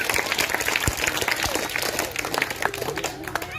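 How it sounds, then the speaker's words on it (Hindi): A crowd at a village council meeting claps steadily with dense, sustained applause from start to finish, loud and close, with no pauses. "एक बार जोरदार नंदिनी जी के लिए ताली हो जाए।"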